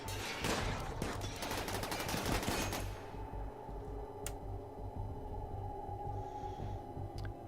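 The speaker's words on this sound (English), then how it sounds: "And Ortega just got a shot there." Gunfire in the Rimworld video game, a rapid burst of loud crackling shots for a few seconds, then a single sharp shot over a low, steady game hum.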